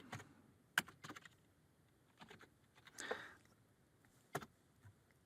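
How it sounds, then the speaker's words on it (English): Keys tapped on a computer keyboard while entering a name into a text box in a presentation slide: a few short, light, scattered clicks in quick bursts, close by and fairly quiet, with no talking. "I'll type in Kelly Cole's name"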